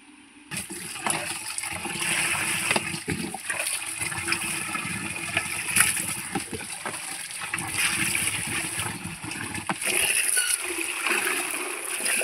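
Fresh kharkol leaves are washed by hand in water, with steady splashing, sloshing and gurgling that runs nearly continuously, close and fairly loud, no speech.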